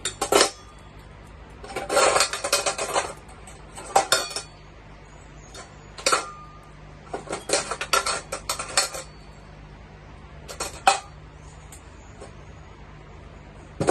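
Metal medical instruments, held open, clatter and clink against each other while being rinsed at a sink after a delivery, in several short bursts separated by quiet pauses.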